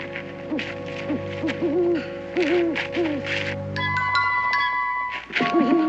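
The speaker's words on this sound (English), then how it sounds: "Sure, that ain't nothing but a hoot owl." An owl hoots at night in a series of wavering calls, fairly close and clear, followed by a few higher ringing tones.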